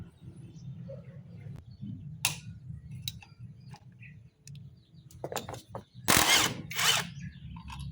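Power tool working the bolts on a Mio MXi 125 FI transmission, with a steady low motor hum, short ticking mechanical bursts near 2 s and a louder whirring burst around 6 to 7 s, close by.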